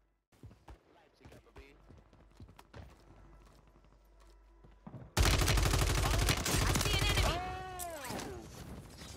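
An automatic pistol fires in Warzone 3, first as scattered distant shots under game noise, then as a loud close rapid burst with rising whine-like effects. Speech is also present.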